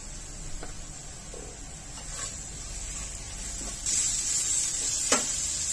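Cluster beans and potato being sautéed in oil in a pan, a soft continuous sizzle with occasional stirring scrapes, gently louder toward the end and without any talking.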